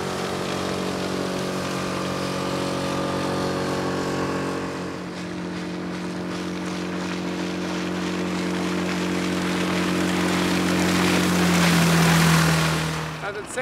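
A 3.5 m boat driven by a 5 hp outboard motor runs steadily on the water, its engine drone loud and close and rising in pitch toward the end as it speeds up.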